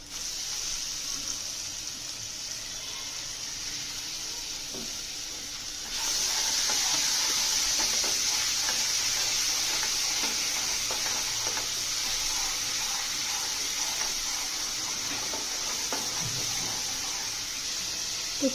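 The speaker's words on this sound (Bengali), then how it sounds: "আলু বেগুন টমেটো দিয়ে কষিয়ে নিচ্ছি।" Potato, eggplant and tomato sauté in a small amount of oil with spices, a steady broadband sizzle that swells louder partway through, with faint stirring clinks and scrapes and no talking.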